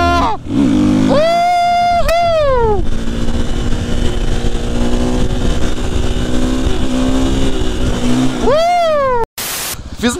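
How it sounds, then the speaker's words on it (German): A motorcycle engine revs hard during a wheelie ride inside a shopping mall, loud and close, with sweeping rises and falls in pitch and a long steady high drone between revs, before a sudden break near the end. "Es wird nochmal Zeit für einen Wheelie."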